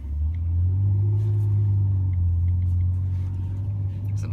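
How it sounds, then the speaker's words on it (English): A Ferrari engine idles with a deep, steady rumble, close and loud, holding a smooth low drone with little change in pitch. "It's nice to hear an engine again."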